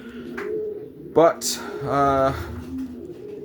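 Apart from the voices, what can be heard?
racing pigeons cooing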